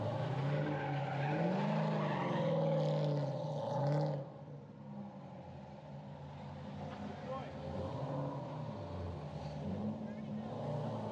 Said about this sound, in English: driving in a figure eight before trying to drift in a figure eight